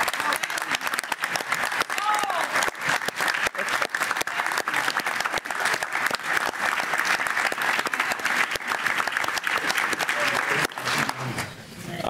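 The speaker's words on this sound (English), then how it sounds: "Give her a round of applause for putting this together." Sustained audience applause at a school district recognition event, steady dense clapping for about eleven seconds before fading out, with faint voices mixed in.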